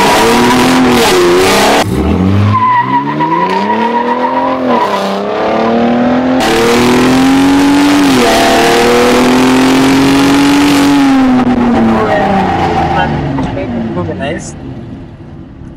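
A Ford F-150 Raptor with an EcoBoost V6 on a short test track, revving loudly and close with rising and falling engine pitch through gear changes, tires squealing at points, sustained throughout with people talking over it.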